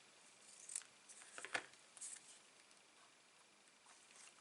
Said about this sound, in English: Let me just snip a tiny little snippet off that as well.